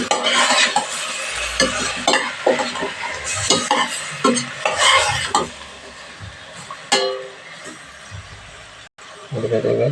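Milkfish (bangus) sizzles as it is sautéed in a pan, with scraping stirs, clinks of a utensil against metal and bursts of frying crackle, close up, while a voice speaks intermittently.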